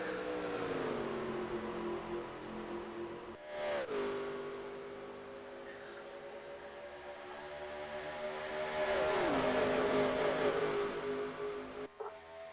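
Race car engines drone in the Papyrus racing video game at Papyrus Motorsports Park, with a loud, steady, high-pitched whine that dips and climbs as the cars come through the last turns and cross the start-finish line.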